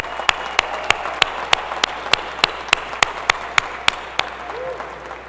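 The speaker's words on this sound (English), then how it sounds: "Please give Dr. Lori Crochet and the Winthrop Commencement Band a round of applause for their wonderful concert prior to the ceremony." Commencement audience at Winthrop University applauding the commencement band, a crowd's steady clapping with a few sharp, loud claps standing out in a regular rhythm near the microphone, while a faint voice and brief tone are also heard.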